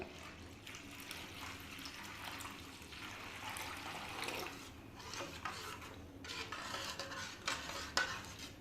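Betel leaf and fennel powder paste gets stirred with added water in a kitchen vessel, a soft, steady swishing and scraping with faint clinks of a spoon, fairly quiet and continuous with no talking.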